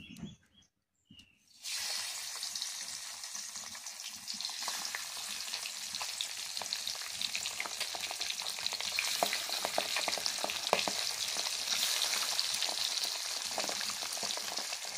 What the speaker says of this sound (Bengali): তেল গরম হয়েছে, এবার মাছগুলো ভেজে নেব।